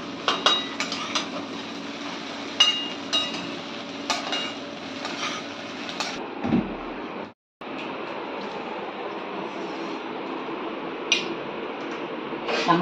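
Sabudana khichdi being eaten, with light clinks and scrapes of utensils on a plate scattered over a steady background hum, then a short gap and more faint clinks.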